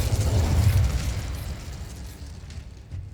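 An Incendio fire spell goes off in Hogwarts Legacy, a heavy rumbling whoosh of flame that hits loud at once and then fades away over about three seconds.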